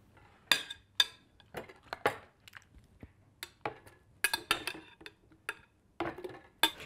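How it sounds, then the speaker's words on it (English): A big spoon stirring bread salad in a bowl, sharp irregular clinks and scrapes of metal against the dish, close and distinct, with quiet gaps between strokes. "Just take a big spoon and stir it together."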